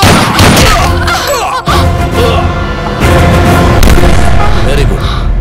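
Gunfire in a Tamil movie scene from Jai Sena: a few loud, booming shots cut through a thick bed of dramatic music and voices.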